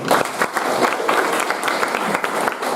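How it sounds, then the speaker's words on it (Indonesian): A class of high school students claps loudly and close by in a classroom, a dense continuous burst of hands with a few voices mixed in. "Oke, tepuk tangan dulu."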